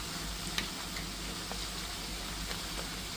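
Black cumin seeds and onion heat in oil in a pan on the stove, giving a steady, soft, close sizzle with faint scattered pops and no talking.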